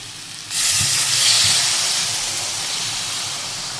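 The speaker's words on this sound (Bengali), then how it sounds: "এখন আমি ঝোলের জন্য জল দিয়ে দেব" Water poured into a hot pan of frying potato and jackfruit curry bursts into a loud, steady hiss of steam and sizzle that holds on, easing off slightly.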